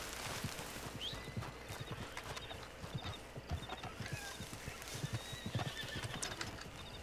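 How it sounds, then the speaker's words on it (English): Hooves clip-clop in a steady, busy gallop, with repeated neighs and whinnies, from a horse in the open-world western game Red Dead Redemption 2, close and fairly loud with no talking over it. "Oh, it's that horse."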